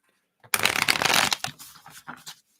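A close, loud riffle of tarot cards being shuffled is followed by a few softer taps and slides as the deck settles.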